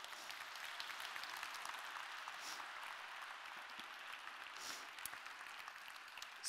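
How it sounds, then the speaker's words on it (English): An audience in Stockholm City Hall claps at a fashion event with top designers, a steady, dense patter of applause heard from a distance with no voices. "And a round of applause for Kai Bond, please."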